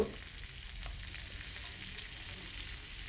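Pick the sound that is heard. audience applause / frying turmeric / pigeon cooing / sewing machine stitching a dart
frying turmeric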